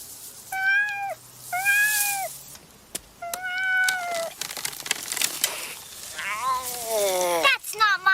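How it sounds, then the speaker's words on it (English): A cat meows several times in clear, drawn-out cries. A voice speaks and other noises are mixed in, ending with a longer, wavering yowl. "My cat."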